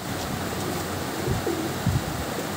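Allahabadi Kalpar pigeons, a Kaldum flying line, giving a few low, soft coos over a steady hiss.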